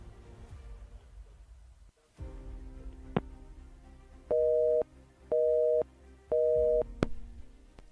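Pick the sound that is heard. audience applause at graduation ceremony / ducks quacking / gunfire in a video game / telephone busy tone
telephone busy tone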